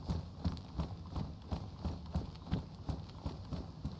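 Footsteps of the player character in the video game Chernarus, a steady regular thudding trudge with a clip-clop quality, moderately loud and alone without talk.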